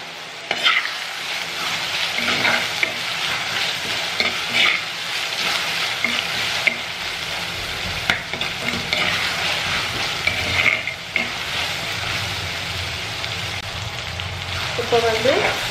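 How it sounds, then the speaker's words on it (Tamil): Tomatoes sauté in a pan for a mutton chops gravy, a steady close sizzle and fry with intermittent scraping stirs, continuous throughout. "தக்காளி நல்லா வதங்கணும் இல்லையா, அதனால கல்வி உப்பு சேர்க்குறேன்"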